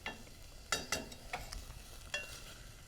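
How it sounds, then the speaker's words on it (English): Vegetables dry-sautéed in a pan with no oil, a spatula scraping and stirring in a few distinct sharp strokes over a faint, steady background hiss, heard close and fairly quiet. "I just do a dry saute."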